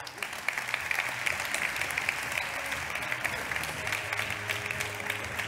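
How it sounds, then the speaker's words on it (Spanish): An audience at a business event gives a steady round of applause, dense crowd clapping that holds at an even, moderately loud level throughout. "Un aplauso para Josep"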